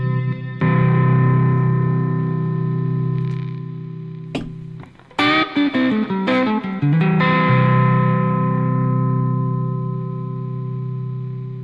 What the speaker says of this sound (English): Ah, solo distortion.